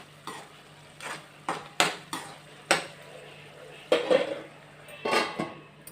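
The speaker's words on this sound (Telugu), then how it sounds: "మధ్యలో కలుపుకుంటూ ఇవన్నీ బాగా ఉడికిందాక కలుపుకుంటూ ఉండాలి" A spoon stirring a cooking pot as ingredients cook, heard as a series of sharp metallic clanks and scrapes against the pot at uneven intervals, close and fairly loud over a faint hum, with no talking.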